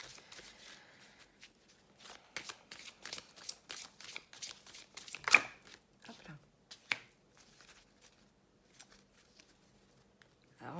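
Tarot oracle cards are handled and shuffled, giving a series of quick, soft flicks and snaps in irregular bursts, close and quiet, with a hushed room between them.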